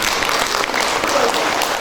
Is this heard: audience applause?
yes